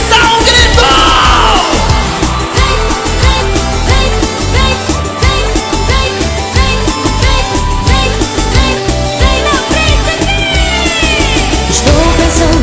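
Live crowd at a band concert in Macapá, Brazil, yells and whoops loudly over continuous dense music, a sustained roar of many voices throughout.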